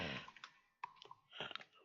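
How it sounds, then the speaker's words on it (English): A few crisp, quiet clicks from a computer keyboard being typed on, in brief bursts with short pauses between keystrokes. "So I'm gonna write prefab on my keyboard."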